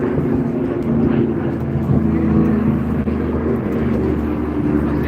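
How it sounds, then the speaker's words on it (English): A Spitfire flies past at the Blackpool Airshow, a loud, low propeller-engine drone with rumbling, steady power filling the whole moment, heard outdoors with faint crowd noise and some talk. "Listen out for the Spitfire as he comes through."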